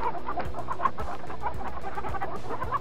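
Chickens in a poultry factory setting cluck repeatedly in short, irregular bursts, several birds close by over a dull background rumble.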